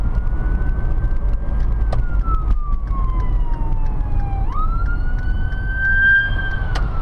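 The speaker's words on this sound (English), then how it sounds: "Now there's an emergency vehicle coming behind me." An ambulance siren wails behind a car driving on winter roads, loud and steady, its pitch sliding down and then back up over constant road and engine rumble.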